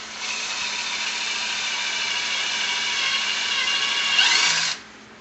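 A power drill whirs steadily at close range for several seconds, rising slightly in pitch near the end before abruptly stopping.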